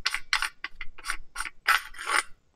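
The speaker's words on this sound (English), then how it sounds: "You got your barrel nut that unscrews." Barrel nut being unscrewed on a toy gel blaster receiver, with metal outer parts, giving a series of close, brief plastic ratcheting and rubbing bursts in irregular rhythm, several clicks in quick succession.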